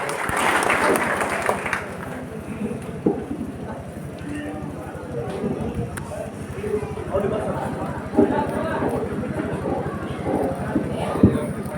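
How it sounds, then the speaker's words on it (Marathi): Applause from an audience at a village farm event hosted by a seed company, a dense, sustained clapping that stays steady for the whole stretch, with some voices mixed in. "खरेतर जोरदार टाळ्या होऊन जाऊ द्या पंजाब साठी आणि आमच्या दिल्ली चव्हाण साठी"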